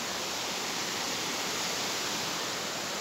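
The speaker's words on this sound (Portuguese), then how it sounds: "A cachoeirinha lá embaixo." A small waterfall in Nazaré Paulista gives off a steady, unbroken rush of falling water that fills the whole scene at an even level.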